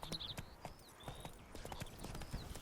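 Horse hooves clip-clopping at a steady trotting rhythm in the video game The Witcher 3: Blood and Wine, close and distinct over a soft background with a faint whinny-like tone.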